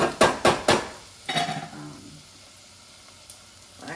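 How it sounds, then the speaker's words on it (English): Garlic cloves stirred in a pot, opening with three sharp metallic clanks of a utensil against the pot, then a scraping stir over a faint sizzle, fading to near quiet with one final small knock. "And give that a stir."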